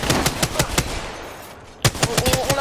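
Video-game gunfire during a sniper encounter: a rapid string of loud shots, a brief lull, then another quick burst near the end, with no talk.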